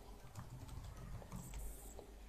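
A computer keyboard is typed on in quick, light, irregular clicks, faint and close, with no talking.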